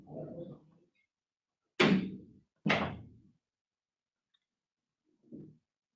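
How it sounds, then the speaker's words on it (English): An office door being closed, heard as a soft shuffle followed by two sharp knocking thuds about a second apart and a faint final bump, with quiet between them and no talk. "I'm going to close your door"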